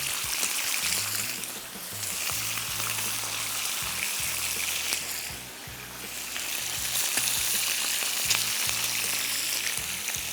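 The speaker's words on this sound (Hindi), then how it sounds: "इसके बाद मैंने इसको कर लेना है सिंपली पैन फ्राई" A salted ingredient pan-fries in hot oil in a kitchen, giving a steady, close, loud sizzle that crackles on without pause for the whole stretch, with no talking.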